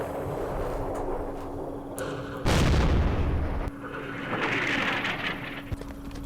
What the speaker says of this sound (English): The French artillery.